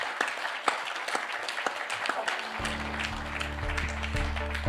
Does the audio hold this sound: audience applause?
yes